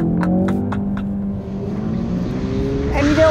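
A 2018 Ford Focus RS drifting on Michelin winter tires, its engine droning steadily loud and close throughout, with a brief rising tire squeal near the end.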